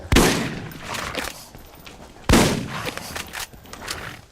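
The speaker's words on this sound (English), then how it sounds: "So there's maybe half a dozen shotgun kills right there." Two loud shotgun blasts ring out in the video game Borderlands, each a sharp close boom trailing into echoing rumble and clatter, spaced about two seconds apart with no talk.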